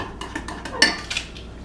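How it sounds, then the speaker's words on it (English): A spoon stirs vanilla into a small batch of microwave chocolate chip cookie batter, giving a few soft scrapes and light clinks against the bowl, close and quiet, with no talking. "Stir that in."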